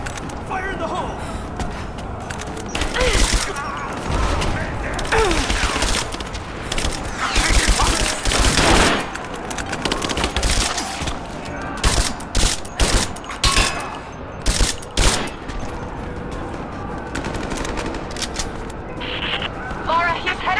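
Gunfire in the video game Rise of the Tomb Raider, with bursts of automatic fire and scattered shots over continuous battle noise, loud and close, with voices calling out amid the combat.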